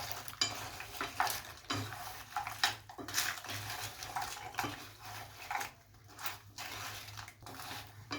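Fried diamond-cut snack pieces being stirred into bubbling syrup in a pan, with scraping and clinking of a utensil against metal over a soft sizzle, close and fairly quiet, no talk.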